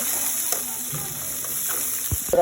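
Ginger-garlic paste, salt, turmeric, chili and coriander paste being stirred in a frying pan for a fish curry, a steady soft sizzle with a few scraping clinks of the spoon near the end.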